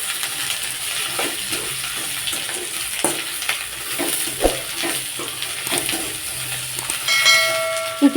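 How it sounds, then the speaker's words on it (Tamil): Onions and green chilies sautéing in a pan with mustard seeds and curry leaves, giving a continuous close sizzle with scattered stirring clatter and a few sharper knocks near the end, no talking. "வெங்காயம், பச்சை மிளகாய் எல்லாம் சேர்த்து வதக்கிக்கலாம்."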